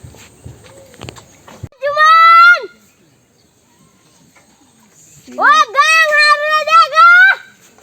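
Goats near a village rice field, grazing on the crop, give two loud, close bleats a few seconds apart, with quiet background noise and a few light knocks between them.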